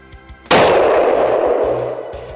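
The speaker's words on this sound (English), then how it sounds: "Our hunter decides to use his rifle." A hunting rifle fires once at a bull moose, a single loud, sharp report that cracks out and then rolls away in a long, fading echo across open country, with no talk over it.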